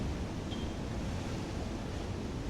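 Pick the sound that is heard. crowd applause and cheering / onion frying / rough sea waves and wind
rough sea waves and wind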